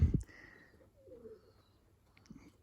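Pigeons in a loft give soft, low coos after a brief rustle, with a faint chirp or two nearby and quiet pauses between calls.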